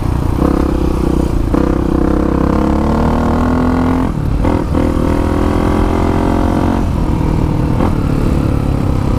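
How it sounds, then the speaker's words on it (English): A 1985 Honda XR350R four-stroke dirt bike rides through open desert, its engine droning steadily in the low to mid range with gear changes and shifts in pitch, heard close and continuous throughout. "I really like the friendliness of this old Honda 4-stroke out here."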